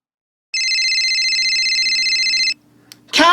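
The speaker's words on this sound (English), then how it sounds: "phone went off" A mobile phone rings with a bright synthetic electronic tone that holds steady for about two seconds and then cuts off, followed by a brief pause and the start of a voice.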